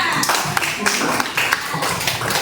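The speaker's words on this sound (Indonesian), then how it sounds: "Beri aplaus untuk temannya." A school class claps for a classmate, a quick uneven round of hand claps from a small group, close and fairly loud, with voices murmuring underneath.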